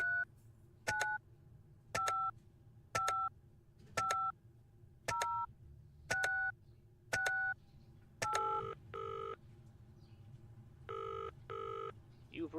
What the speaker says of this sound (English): let's try calling this guy